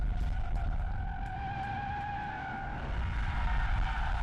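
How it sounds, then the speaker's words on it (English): A Ford Maverick LOBO street truck runs an autocross course of cones in a car park, its engine holding a steady, sustained drone with squealing tires throughout, heard from a moderate distance. "What you're watching here is autocross, the people's racing pastime in America, in which cars take on a course made up of cones set up in a car park."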